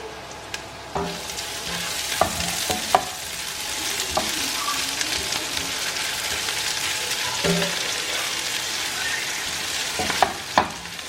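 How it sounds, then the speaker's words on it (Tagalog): Ginger frying in a pan for Filipino ginataang kuhol gives a close, steady sizzle and crackle, broken by several sharp taps of a utensil against the pan, with no talk. "Ilalagay naman po natin yung luya. Ipapry natin ng konti."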